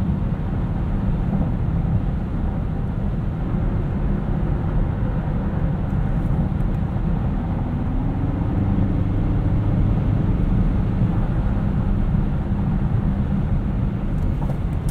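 A 2018 Mazda CX-9 Signature with all-wheel drive drives at night, a steady muffled hum of engine, tires and road heard from the cabin, even and unbroken throughout with no one talking.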